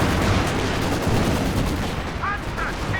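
Infantry support gun barrage in the Company of Heroes 2 strategy game, a dense dull rumble of repeated shell blasts and gunfire filling the mix, with faint chirpy game effects near the end.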